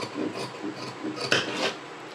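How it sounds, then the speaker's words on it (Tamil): Scissors cutting the sleeve from blouse fabric on a table, a close series of soft rasping snips and slides with a sharper click in the middle, no voices. "நம்ம ஸ்லீவ் கட் பண்ணிடலாம்"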